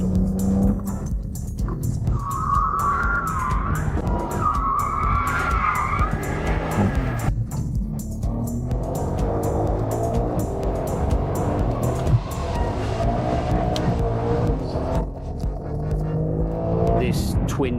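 Twin-turbo six-cylinder boxer engine supercar driving, its engine and tyre noise running steadily throughout with a brief high tire squeal early on, heard under continuous talk from people inside.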